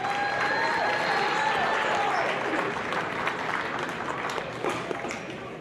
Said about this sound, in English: Let's give a round of applause for all of our seniors on senior night.